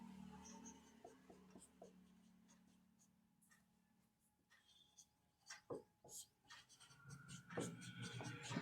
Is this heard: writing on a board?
yes